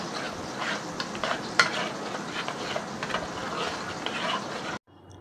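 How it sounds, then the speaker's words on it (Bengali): Fish sizzles and fries in a pan, a steady crackling hiss with occasional stirring, close and continuous before cutting off near the end. "এই তো মাছ ভাজাটা হয়ে গেল।"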